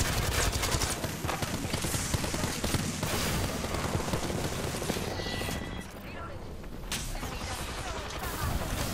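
Rapid gunfire in a ranked competitive shooter match crackles in dense bursts of overlapping shots, loud and nearly continuous, briefly thinning midway before resuming, with a player talking over it.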